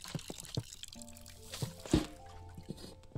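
Water poured and dripping while watering plants in the video game Botany Manor, short splashy trickles and drips scattered over soft background tones, fairly quiet and close.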